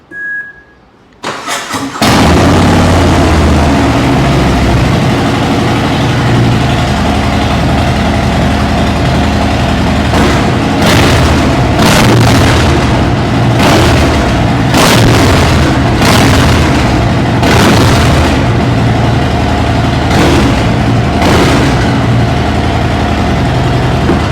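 A roughly 28-lakh superbike engine fires up with a sharp crank, then settles into a loud, close, throbbing idle broken by several hard bursts of revving that boom and fall back, with no talking over it.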